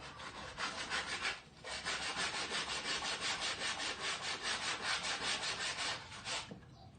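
Steady rhythmic scraping of sandpaper on wood, fast back-and-forth strokes up close, pausing briefly once before continuing, with no voices.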